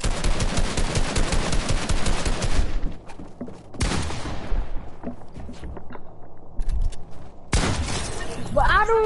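Gunfire in Fortnite, with loud rapid bursts of automatic shots, then pauses and further bursts, while players talk over the action.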